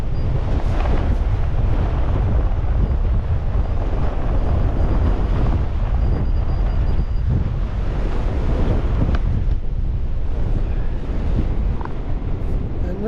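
Strong wind buffets the microphone on a beach, a constant loud roar with crashing surf underneath that does not let up for the whole stretch.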